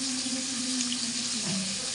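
Water runs from a tap into a cooking pot in a home kitchen, a steady, moderately quiet splashing stream with a faint rising tone as the pot fills.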